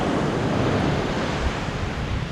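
Sea waves on a long beach, a loud, continuous rushing wash of surf mixed with wind buffeting the microphone.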